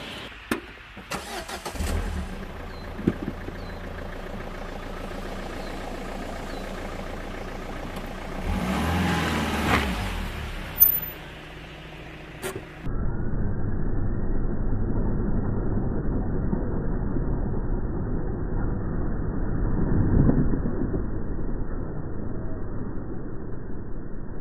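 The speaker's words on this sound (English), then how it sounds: "I'm going to jump in the bug out Renault and drive it over." Renault car on studded winter tyres rolls over an LED road flare in a car park: an engine starts and idles, revs briefly, then settles into a steady drone with scattered clicks and bumps, fairly close.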